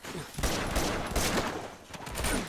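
Gunfire from the video game Uncharted 2: Among Thieves, a dense burst of rapid, loud shots crackling across the whole clip with little pause between them.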